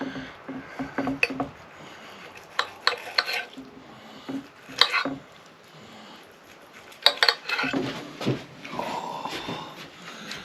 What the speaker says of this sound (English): So let's cut it open and see how I did on the cooking process and the temperature. I'm gonna cut it right down in the center,